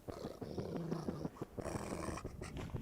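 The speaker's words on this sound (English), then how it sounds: "started to growl." A dog growls low and rough in a series of rumbling bursts with brief pauses, close and fairly quiet, with no talk over it.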